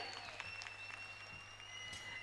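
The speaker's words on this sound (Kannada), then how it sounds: "ಜೋರಾದ ಚಪ್ಪಾಳೆ" Applause from an audience at a school event, a brief burst of clapping heard at a distance and fairly faint, steady for about two seconds.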